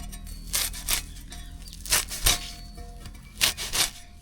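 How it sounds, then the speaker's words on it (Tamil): Bottle gourd leaves, folded over, being cut finely with a knife: a few soft, scraping slices in pairs, close and moderately quiet, with no talking. "எந்தளவு உங்களுக்கு பொடிசாக கட் பண்ண முடியுதோ அந்தளவுக்கு வந்து இந்த மாதிரி வந்து மடக்கி மடக்கி வச்சு இந்த மாதிரி நல்லா பொடிசாக கட் பண்ணிவிடுங்க"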